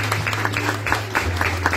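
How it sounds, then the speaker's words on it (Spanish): Audience clapping at a graduation ceremony of Instituto Oficial San Buenaventura, a loud, close burst of applause with a steady low hum underneath and no voices over it. "¿Qué pasó con un aplauso de ustedes?"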